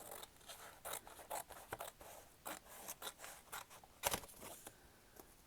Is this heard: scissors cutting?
yes